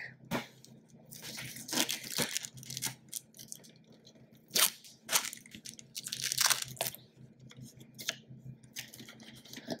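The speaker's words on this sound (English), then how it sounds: "we got some tape here that we need to fillet or peel back" Packing tape is peeled from the box of a Rastar RC transforming car, with irregular sharp ripping and crinkling bursts of cardboard and plastic, close and fairly loud, with quieter handling noise between pulls.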